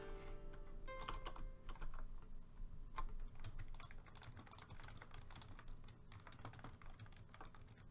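Rapid, irregular clatter of computer keyboard typing, close and steady throughout, with a constant background hum and no speech.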